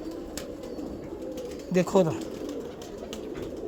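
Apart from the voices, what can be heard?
Lakhy pigeons cooing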